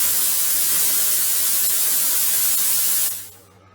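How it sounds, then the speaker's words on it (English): Steam cleaner blasting hot steam onto a car seat belt in a Mercedes R129 500SL interior, a loud, close, continuous hiss that cuts off abruptly near the end. "I'm just gonna, spray some steam on it"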